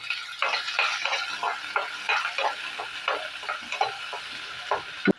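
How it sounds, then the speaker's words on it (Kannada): Onion and green chili frying in oil with cumin, a steady close sizzle broken by repeated scraping stirs at an even rhythm, with no talking. "ಈರುಳ್ಳಿ, ಹಸಿಮೆಣ್ಸಿಕಾಯಿ ತೊಗೊಂಡಿದ್ದೀವಲ್ಲ ಅದು ಎಣ್ಣೆಯಲ್ಲಿ ಹಾಕೋಣ. ಹಾಕ್ಕೊಂಡ್ಬಿಟ್ಟು ಸ್ವಲ್ಪ ಇದನ್ನು ನಾವು ಫ್ರೈ ಮಾಡ್ಕೊಳ್ಳೋಣ."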